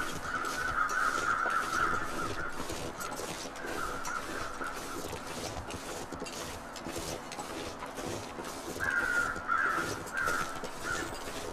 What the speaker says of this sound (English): I hear birds, but I don't see them.